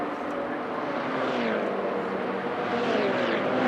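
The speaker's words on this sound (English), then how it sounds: "All the different sounds of all these cars as well." Race cars in a mixed-class endurance race at Mount Panorama, Bathurst, roar down Conrod Straight, engines droning loudly and continuously with rising and falling pitch as they pass close by.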